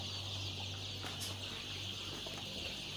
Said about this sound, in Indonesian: Ayam kampung.